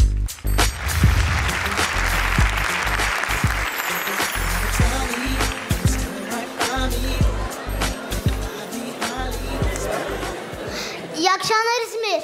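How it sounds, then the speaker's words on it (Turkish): Audience applauding at a televised Turkish talent show stage performance, dense sustained applause with cheering, a voice talking over it and music rising near the end. "Alkışlar yapıyoruz."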